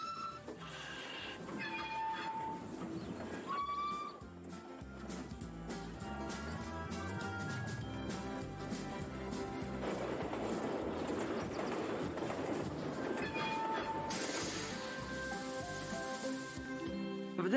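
Train running on rails, a steady rumbling clatter with rhythmic clicking and squealing metallic tones. It carries on continuously at moderate loudness, with no voices.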